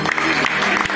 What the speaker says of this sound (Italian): Bravissimo, applauso.